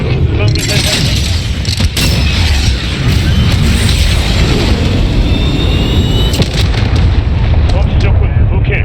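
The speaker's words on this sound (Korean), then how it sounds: "순항 미사일 발사." A cruise missile strike hits in Call of Duty: Modern Warfare, a loud, dense barrage of booming explosions and jet-like roar that continues throughout, with sharp cracks layered on top.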